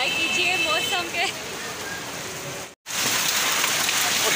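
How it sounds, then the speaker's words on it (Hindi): Heavy rain pours down in a loud, steady hiss with no letup, broken only by a split-second gap near the middle. Voices talk over the downpour at the start. "इतनी बारिश हो रही है।"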